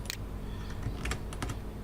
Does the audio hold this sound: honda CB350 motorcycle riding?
no